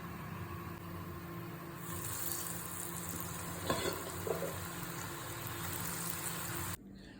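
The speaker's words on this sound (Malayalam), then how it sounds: "ഇനി നമുക്ക് പൊട്ടറ്റോ ഇട്ട് കൊടുക്കാം." Potato fries dropped into hot sunflower oil, a steady close sizzle and bubbling with a couple of brief knocks, cutting off abruptly at the end.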